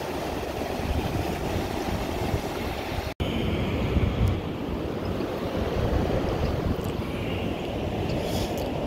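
Ocean surf washing onto a beach at low tide, a steady broadband roar with wind buffeting the microphone, continuous and fairly loud with no voices.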